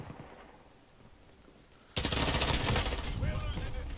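Automatic gunfire in a Modern Warfare multiplayer match bursts in suddenly halfway through, loud and dense after a quieter stretch of background game noise.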